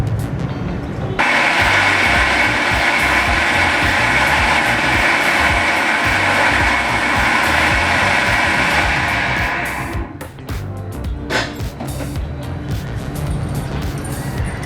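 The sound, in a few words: mixer grinder blending sambar powder chutney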